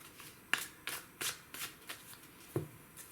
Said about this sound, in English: I'm going to open these cards one by one using the tarot